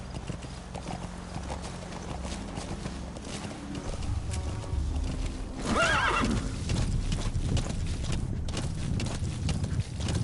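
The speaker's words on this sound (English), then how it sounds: "la física del caballo es bien distinta, no lo había sentido" Horse in Metal Gear Solid V: The Phantom Pain, with a loud whinny midway over continuous clip-clopping hooves and game ambience close up.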